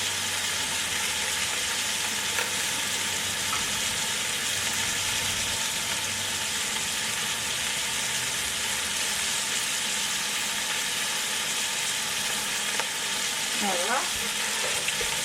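A seasoned pot roast sears in a hot pan with a steady, close sizzle that runs the whole time, a few faint clinks near the end, and one brief spoken word.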